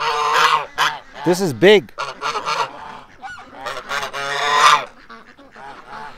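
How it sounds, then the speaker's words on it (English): Geese honk loudly and repeatedly in uneven bursts close by, their nasal calls overlapping, while a person speaks briefly between them. "the geese want attention."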